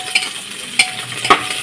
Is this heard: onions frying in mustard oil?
yes